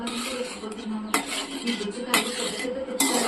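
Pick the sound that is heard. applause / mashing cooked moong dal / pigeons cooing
mashing cooked moong dal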